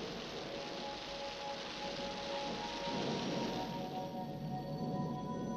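Steady rain falls in a cartoon, a constant close wash of hiss and patter that swells slightly partway through, with no talk over it.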